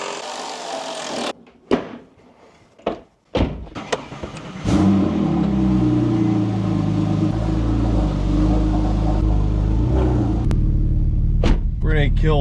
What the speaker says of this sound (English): I need to get some sound clips of the new exhaust.